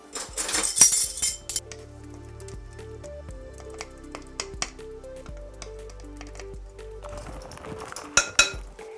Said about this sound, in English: We're just going to stir this up a little bit, mix everything together.